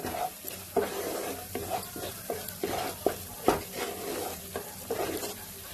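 Ground cumin and coriander fry in hot oil in a pan while a spoon stirs them, giving a steady close sizzle broken by frequent scraping knocks of the spoon against the pan.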